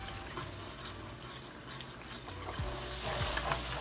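Masala sizzles and fries steadily in a pan for Karachi-style halwa puri, a close, continuous crackle with occasional stirring scrapes.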